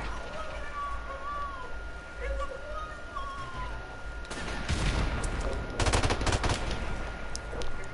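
Automatic gunfire in Call of Duty: Modern Warfare Remastered, with rapid bursts that intensify toward the end over steady game background noise, while a player talks.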